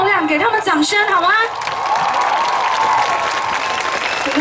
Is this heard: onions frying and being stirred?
no